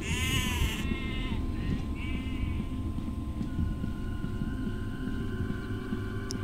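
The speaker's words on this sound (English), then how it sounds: "Oh, it's a sheep." A sheep in the horror video game Five Books gives one loud, wavering bleat, followed by fainter echoing game ambience and a low steady rumble.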